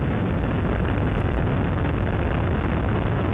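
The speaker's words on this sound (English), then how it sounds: "We have booster ignition and liftoff of the Space Shuttle Endeavour" Space Shuttle Endeavour's boosters igniting at liftoff on mission STS-100, a dense, unbroken roar filling the whole clip at constant loud level, crackling and rumbling without pause.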